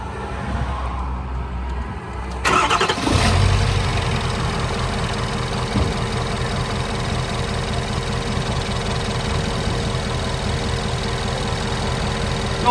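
A 2000 Ford Excursion engine cranks and fires up after a quiet moment, then settles into a steady, rumbling idle that carries on loudly to the end.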